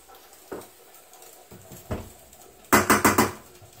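Coconut oil dropped into a pan in a home kitchen, heard as a few soft isolated clinks and then a quick run of four sharp metallic taps near the end.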